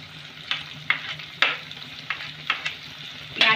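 Two large, thinly sliced onions fry lightly in a pan for Indian-style macaroni pasta, a gentle sizzle interrupted by roughly seven crisp, close spatula scrapes at uneven intervals.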